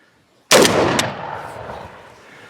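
A single loud slug fired from a short-barreled Napolyon Arms QX5 magazine-fed shotgun goes off close by, and its boom rings out and decays over about two seconds.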